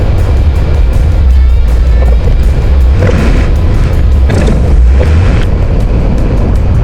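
A 600 hp twin-turbo V8 Ferrari convertible cruises through Maranello, Italy, with a steady, loud engine rumble and road and wind noise throughout, the engine swelling briefly a couple of times.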